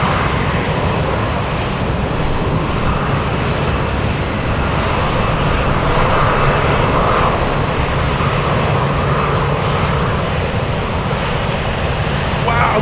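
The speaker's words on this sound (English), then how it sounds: "We have a Saab 2000 on final." A Saab 2000 turboprop airliner on final approach in gusty crosswind conditions produces a steady, loud broadband engine drone with a hissing wash that holds evenly throughout.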